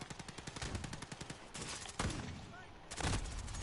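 Rapid automatic gunfire and shotgun blasts from the video game Call of Duty Modern Warfare on PS4, a dense run of repeated shots with bursts and heavy booms, loud and continuous throughout.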